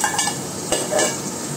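Steady sizzling of oil in a pan with occasional scraping stirs, close and continuous, no voices.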